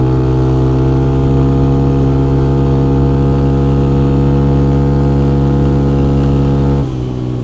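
A cheap quad ATV engine runs wide open in fifth gear, making a loud, steady, droning buzz with strong even harmonics that holds nearly constant before dropping slightly near the end.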